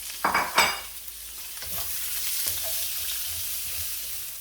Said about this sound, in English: Now I'm gonna add my white onion.